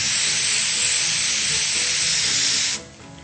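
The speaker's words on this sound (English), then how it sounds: "you can spray Krylon Paper Finishes webbing spray in black or white for a really cool touch" Krylon Paper Finishes webbing spray hisses from an aerosol can in one steady, close burst that cuts off abruptly near the end.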